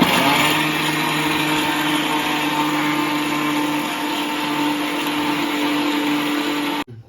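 A mixer grinder roars loudly and steadily at close range for several seconds, then cuts off abruptly near the end.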